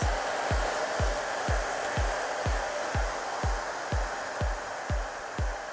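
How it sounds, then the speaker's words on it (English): A hair dryer fitted with a diffuser blows on curly hair, a steady airy roar near the microphone broken by a regular thumping pulse about twice a second, with no talking. "So the way you use the diffuser, you be gentle and just hold the diffuser in your hair."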